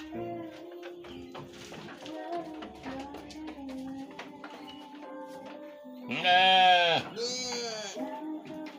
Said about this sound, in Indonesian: Ini domba tuh.